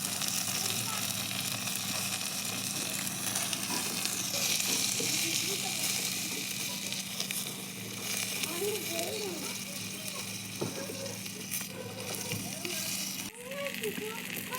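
Tomato and beans fry in a small pan in a village kitchen, making a steady close sizzle with occasional crackles and stirring while a voice talks over it.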